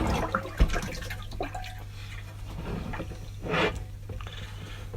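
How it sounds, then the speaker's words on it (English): Hot soapy water splashes and sloshes over grimy aluminium as it is scrubbed, close-up with wet rubbing and dripping over a steady low hum. "Now using some soapy water, hot soapy water."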